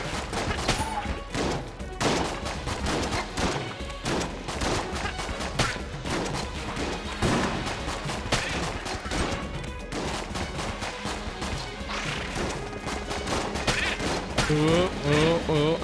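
Nonstop bullet fire from Enter the Gungeon pelts along in dense, rapid volleys over game music for the whole stretch, loud and unbroken.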